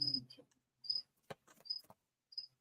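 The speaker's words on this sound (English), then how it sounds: "There's a cricket somewhere." A cricket chirps indoors in short, sharp trills repeated at irregular intervals, faint and close in an otherwise quiet room, with a few soft knocks and rustles between calls.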